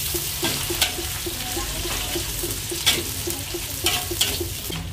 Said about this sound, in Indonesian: saya tumis terlebih dahulu.